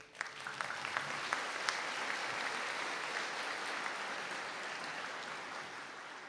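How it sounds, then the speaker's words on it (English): Applause from an audience at an indoor graduation conferring ceremony: a steady wash of many hands clapping, with a few sharper individual claps near the start. It holds at an even level throughout with no talking over it. "Round of applause, please."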